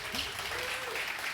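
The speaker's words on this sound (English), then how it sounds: "Please give Colleen a round of applause." An audience at a conference talk applauds for a volunteer, a brief, fairly quiet wash of clapping with faint speech beneath it.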